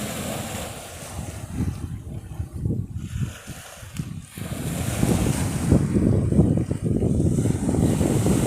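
Sea waves rolling in and breaking on the shore, a continuous loud wash of surf mixed with gusting wind buffeting the microphone, swelling and easing over several seconds.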